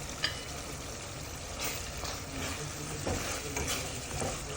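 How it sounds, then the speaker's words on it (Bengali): Dried fish frying in a spice masala in a pan, with eggplant about to go in, giving a continuous dense sizzle and crackle with occasional stirring scrapes, close and steady, no voices. "শুটকিটা একটু ভালো করে মশলায় কষিয়ে এখন বেগুন দিয়ে দিব"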